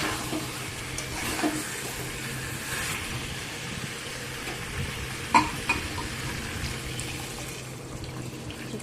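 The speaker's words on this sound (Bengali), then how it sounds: "দিয়ে আবার সব কিছুকে ভালো করে কষিয়ে নিচ্ছি" Chicken and spices being sautéed in a pan at home, a steady low sizzle and frying hiss with occasional soft scrapes and one sharper clink, continuous and moderately quiet with no talking.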